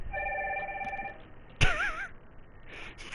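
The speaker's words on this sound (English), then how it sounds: "Well, you better go answer your phone" A house phone rings with a sustained electronic trill that stops partway, followed by a louder warbling ring burst, clear and fairly close with no talking over it.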